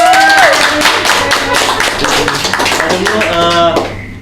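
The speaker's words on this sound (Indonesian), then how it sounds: "Tepuk tangan dong" Audience clapping at an anti-drug education event with Indonesia's BNN, steady and loud across the room, mixed with voices and a tonal whistle or music near the end.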